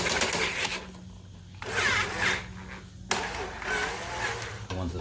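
An engine's carburetor bolts being loosened with a hand tool, giving rasping, ratcheting bursts in three or four close runs separated by short pauses.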